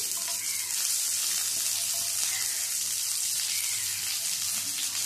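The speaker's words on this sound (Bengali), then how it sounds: "এবারে এই তেলের মধ্যে দিয়ে দেব মাঝারি সাইজের 2টো পেঁয়াজ কুচি করে নিয়েছি। পেঁয়াজ কুচিটা দিয়ে দিচ্ছি।" Two medium onions, finely chopped, frying in hot oil, giving off a steady loud sizzle that holds unbroken from start to finish with no talking over it.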